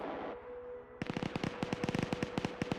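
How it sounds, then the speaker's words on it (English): A PKM machine gun fires in a video game, a rapid, steady burst of sharp shots that starts abruptly after a low rumbling lead-in and keeps going through the end. "PKM firing blindly up there"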